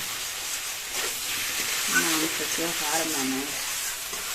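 Raw pumpkin for prawn malai curry sautés in a pan with a steady, moderate sizzle and occasional stirring, partly under a person talking midway through.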